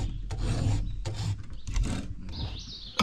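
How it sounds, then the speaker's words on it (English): Rhythmic rasping strokes of a file sharpening a chainsaw chain, several short bursts in a row, close up, with faint birdsong in the background. "Yeah, sharpen chainsaw."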